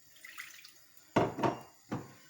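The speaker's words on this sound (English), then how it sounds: "I'm just going to put a little bit of water in there" Water splashes from a tap into a cooking pot to loosen leftover curry sauce of saffron, turmeric and onions, in a few short close-up gushes separated by brief pauses, with no talking.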